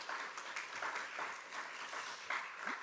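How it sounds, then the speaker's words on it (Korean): A school audience briefly applauds to welcome a visiting pastor, with soft, fairly distant clapping that stays at an even level. "먼저 박수로 한번 환영하도록 하겠습니다"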